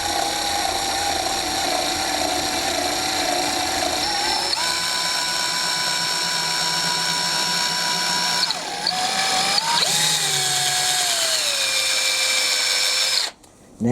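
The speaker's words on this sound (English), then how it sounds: "Drill bit's in the drill. Go straight down into the edge of the 3/4 inch plywood." A power drill whines steadily at high speed, its pitch dropping and shifting as it bites straight down into the edge of 3/4 inch plywood, then cutting off abruptly at the end.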